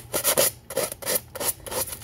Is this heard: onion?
no